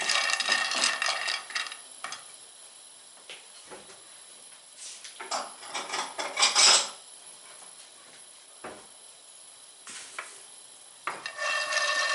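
Peanuts roasting in a pan, stirred in bursts so the dry nuts rattle and scrape against the metal, with quieter pauses between strokes and no speech.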